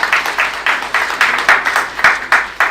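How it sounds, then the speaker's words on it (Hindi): Rhythmic group applause rings out at a Lok Sabha parliamentary event, a steady run of bright, dense clapping bursts that swell and repeat about every quarter second, close and fairly loud with no voices over it. "एक बार जोरदार तालियां"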